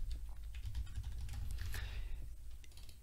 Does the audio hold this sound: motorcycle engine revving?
no